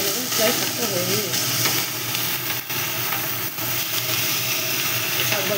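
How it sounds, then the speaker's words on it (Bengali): Red amaranth greens frying with peanuts in a pan, stirred steadily, giving a continuous close sizzle with scraping stir strokes throughout. "বাদাম দিয়ে একটু নাড়ি করে নেব"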